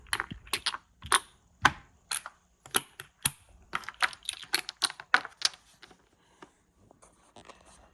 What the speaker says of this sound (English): Got that unmistakable Bakelite clack to it.